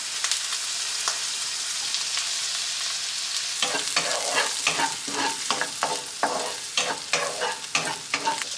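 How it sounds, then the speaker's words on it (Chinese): Dried shrimp and garlic stir-frying in a pan, a quiet low sizzle that turns into a busy run of close spatula scrapes and clatters over a constant hiss, no talking. "爆一爆啲蝦米。"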